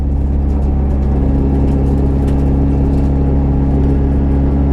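A 400HP SR20-powered drift car runs hot and smelling of oil, its engine holding a steady, loud rumbling idle-to-mid rev with a constant low drone and no talk.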